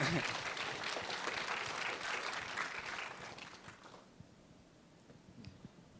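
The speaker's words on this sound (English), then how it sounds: "round of applause for them" Audience at a New York Film Festival shorts Q&A applauding, a full round of clapping for about four seconds that then dies away into quiet room noise.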